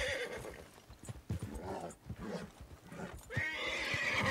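A horse whinnies loudly near the end in Red Dead Redemption 2, with hoof clatter and ambient game sounds throughout.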